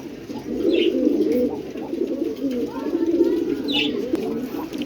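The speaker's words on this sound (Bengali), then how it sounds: "এই যে এক জোড়া কালদম," A pair of large Kaldam pigeons coos steadily and close by in a loft, with soft overlapping throaty calls running the whole time and faint voices murmuring in the background.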